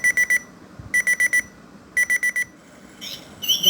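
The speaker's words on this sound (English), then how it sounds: "the regular beep," A Seiko QHP005A modern cuckoo clock sounds its regular alarm in three quick groups of four sharp electronic beeps with short pauses between them, clear and close, with no voices.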